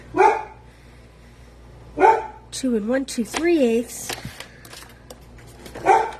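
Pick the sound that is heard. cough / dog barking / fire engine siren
dog barking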